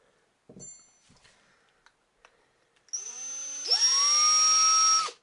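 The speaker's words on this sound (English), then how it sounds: "It's just scratching, starting to scratch the case neck now." Power-driven neck turning tool cutting a .284 Shehane rifle case neck: a few faint clicks and scrapes, then a loud, steady high-pitched whine that rises sharply and holds close to the microphone until it stops abruptly.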